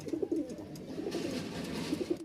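Pigeons cooing close by, a run of soft, low, throaty coos repeating in uneven bursts over quiet background, with no talking.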